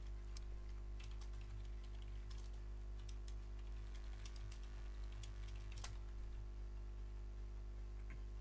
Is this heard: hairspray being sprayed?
no